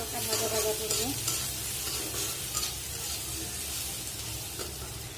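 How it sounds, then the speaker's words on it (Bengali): Tomato, turmeric and chili frying lightly in a pan while being stirred, a soft, even sizzle with scraping stir strokes throughout, close by and without talk. "একটু হালকা ভাজা ভাজা করবো।"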